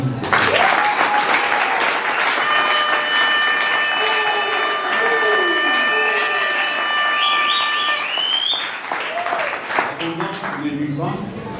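Crowd applause acclaiming a state minister at a ceremony, sustained loud clapping from many people under a whistling tone and shouts, with voices talking toward the end.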